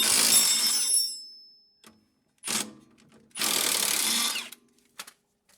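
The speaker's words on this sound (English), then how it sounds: "Spinning it this way with the impact, I shouldn't have to hold the wrench" A half-inch impact wrench spins a strut bolt on a 2007 Honda Accord front suspension, firing in three separate bursts with short pauses between them. The bursts are close and loud and nobody speaks over them.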